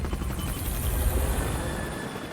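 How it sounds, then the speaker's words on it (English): Two stealth military helicopters fly across the Pakistan border by night, a steady, close rotor-and-turbine roar with rapid throbbing blade chop holding evenly throughout. "The two stealth helicopters manage to cross the border to Pakistan undetected."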